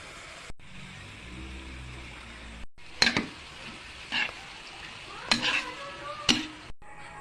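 Bean sprouts and tofu with soy sauce are stir-fried in a pan, a soft sizzle underneath a few sharp scraping stirs and clinks of a utensil against the pan, quiet and close with no talking.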